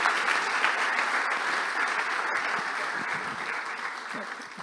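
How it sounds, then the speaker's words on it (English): Audience at a CMA USA convention seminar gives a sustained round of applause, dense and even clapping that fills the room for several seconds and slowly eases off, with no talking over it. "Huge round of applause for them too."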